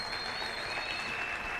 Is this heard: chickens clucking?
no